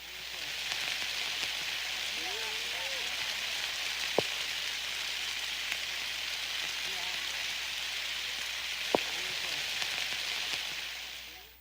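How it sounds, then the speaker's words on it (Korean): A sudden summer downpour over a hot chili pepper field, a dense steady hiss of rain filling the whole stretch with a couple of sharp clicks and faint voices or bird chirps underneath. "소나기가 쏟아졌습니다"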